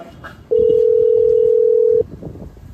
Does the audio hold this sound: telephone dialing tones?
yes